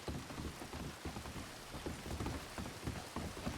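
In Red Dead Redemption 2, a downpour of rain patters on surfaces, a dense, even hiss dotted with close drips and splats, low in level and uninterrupted by speech.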